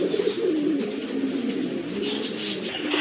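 Lahori pigeons, a pair of fancy silver birds with pink beaks, cooing steadily in a low rolling murmur, close and continuous with faint background noise.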